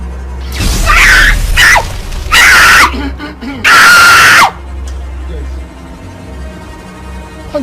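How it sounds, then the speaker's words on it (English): A woman screams in three loud, sustained bursts during a royal drama scene, each shrill cry separated by brief pauses, followed by a quieter background with faint rumble. "Why are you screaming?"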